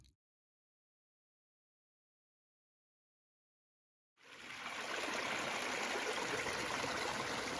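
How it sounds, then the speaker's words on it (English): Water pouring steadily off a leaf at a trail spring on the Appalachian Trail, a continuous close trickling flow that starts after a few seconds of silence and carries on alone. "providing a much stronger flow of water for the next hiker"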